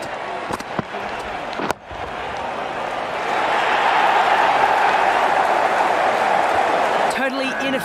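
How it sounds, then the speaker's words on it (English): A cricket crowd at a CPL 2018 match between Jamaica Tallawahs and Guyana Amazon Warriors roars and applauds. A few sharp bangs come first, then steady, loud, dense cheering builds and holds beneath a commentator's voice. "Crowd are loving this."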